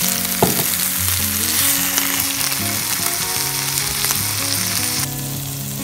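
Frozen hunter beef hitting a pan of hot oil and melted butter, a loud, dense crackling sizzle throughout, with tonal clinks and hum from the kitchen mixed in and no voices.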